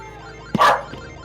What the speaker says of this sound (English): The dog did not approve of the scam call.